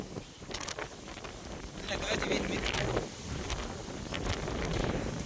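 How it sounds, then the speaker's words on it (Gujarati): Strong gusty wind buffets the microphone with a loud, rumbling roar that surges and eases over a few seconds. "ફૂલ પવન"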